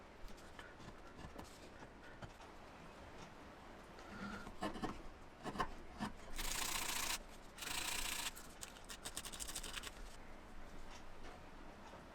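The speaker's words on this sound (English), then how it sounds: "I did some final work with a chisel and some sandpaper to clean them up" Sandpaper rubs over hand-carved wooden chess pieces in a quiet workshop, making soft, irregular scratchy strokes. A few louder bursts of rubbing come partway through.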